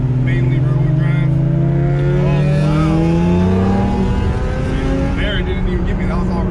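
Nissan R35 GTR engine under steady drive in mainly rear-wheel-drive mode, a continuous close tone rising gradually in pitch as it accelerates, with someone talking over it.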